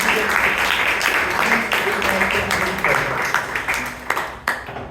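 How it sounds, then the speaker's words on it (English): Round of applause at a Bangalore Toastmasters club meeting, dense clapping that runs steady, then thins into scattered claps near the end, with faint voices beneath. "Can we have a round of applause for our confident and"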